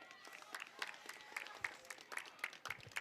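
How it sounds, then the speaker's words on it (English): Spectators at a boys' varsity soccer match, Darien versus Fairfield Prep, clapping in scattered, moderately distant applause, with a voice speaking over it. "Crowd showing their support here."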